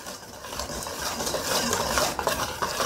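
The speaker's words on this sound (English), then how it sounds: "I'm just going to go ahead and put that into our big bowl and I'm just going to whisk it" Sugar, baking powder and salt being whisked in a big bowl, a dense, continuous rapid scratching and rattling of the whisk against the bowl, close and steady with no talk.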